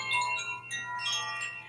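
Chimes ring softly during a spiritual service, sustained bright metallic tones shimmering and overlapping, with a few fresh strikes blending into the ringing decay, alone without talk.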